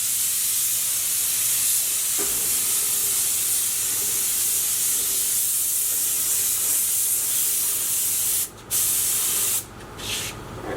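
A paint spray gun hisses steadily as green paint goes on over freshly primed car final-drive parts, a loud continuous spray that breaks off briefly twice near the end.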